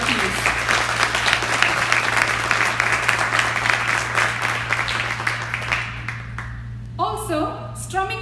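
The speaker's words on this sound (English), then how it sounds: "Let's have a round of applause for the amazing kanjira player, please." Audience applause for a kanjira player at a Carnatic concert welcome, steady dense clapping that thins out near the end, with a low steady hum underneath.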